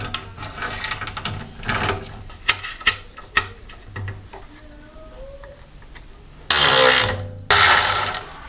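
A ratchet tightens nuts while mounting a propane regulator on a gas generator being converted to propane, with close, quick clicking bursts and scraping, then louder rapid ratcheting runs near the end.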